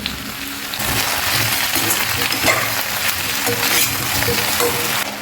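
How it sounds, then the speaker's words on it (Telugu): Cucumber and tomato pieces drop into a pan of sambar, setting off a loud, steady sizzle and frying hiss that holds for several seconds along with stirring. "సో ఈ దోసకాయ టమాటా ముక్కలు కూడా మనం ఇందులో వేసేసుకుందాం"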